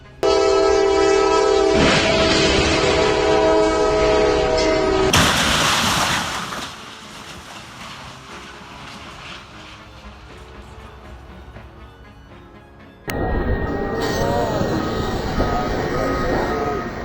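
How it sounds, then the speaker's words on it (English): A high-speed train roars past loudly with a blaring horn as it slams into a semi-truck, then the rumble fades before another loud burst of train noise returns. "a high-speed train slams into a semi-truck"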